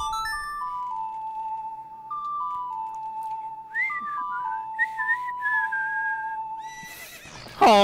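In Zelda: Ocarina of Time, a melody of clear descending tones is followed by a short run of brighter trills, then a sudden loud horse whinny bursts in at the end.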